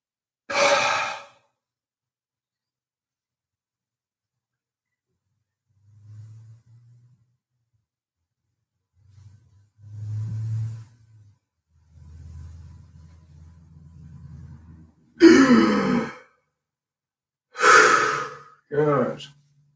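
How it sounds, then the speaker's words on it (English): Relaxed passive exhales from a labor breathing exercise for delaying contractions come as a few soft sighing and breathy releases. They are spaced apart by silence, with low murmuring breaths between them, close to the microphone. "we just do a passive exhale, fold forward, and then suck the stomach in"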